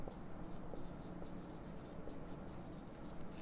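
A pen or marker writes out a carbon-chain formula for an alkane nomenclature lesson, giving soft, rapid, irregular scratchy strokes in short bursts, close and quiet.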